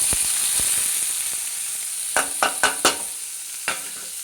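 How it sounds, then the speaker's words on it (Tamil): Onions sizzle and crackle steadily in hot oil, with a few sharp stirring scrapes against the pan partway through. "இது நல்லா கொஞ்சம் செவந்து வர வரைக்கும் நம்ம ஃப்ரை பண்ணிக்கணும்"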